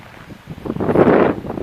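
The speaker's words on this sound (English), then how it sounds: "The wind's blowing at me, so she can't hear me." Wind gusts buffet the microphone outdoors, producing a low, rumbling roar that swells to a loud burst in the middle and then eases off, with no voices over it.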